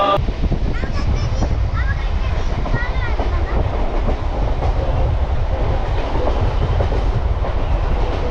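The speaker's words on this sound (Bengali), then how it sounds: "আমাদের ট্রেন এগারোটা তিরিশে বনগা লোকাল" A Bangaon local commuter train rumbles steadily along with a continuous low roar and rhythmic clatter, heard from inside the carriage, with voices chattering throughout.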